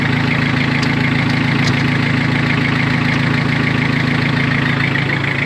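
A Mitsubishi MT2201 two-wheel-drive mini tractor engine runs steadily in gear, a loud, continuous close-up drone with a constant low rumble and no talk over it.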